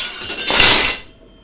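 A glass bowl being taken out for making dough, heard as one brief, bright clattering clink with a hissy wash, close and fairly loud, with no talking.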